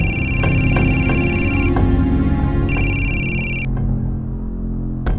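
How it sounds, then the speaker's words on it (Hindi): An electronic phone ringtone chimes in repeated bursts, loud and close, over a low steady hum, then cuts off near the end. "आ गया फिर से फोन।"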